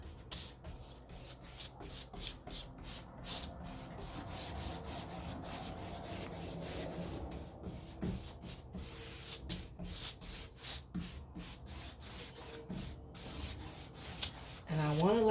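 Soft, continuous rubbing and brushing as a layer of decoupage product is worked over paper, a steady scratchy swishing in short repeated strokes, close and fairly quiet, with no talking.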